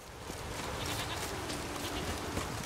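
Goat bleating within The Witcher 3 video game, a steady animal cry that continues over game ambience and background noise, with no talk.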